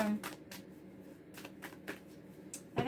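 Oracle cards are cut and shuffled by hand in a series of quick, soft riffling bursts close to the microphone, with brief gaps between handfuls and quiet speech at the start and end.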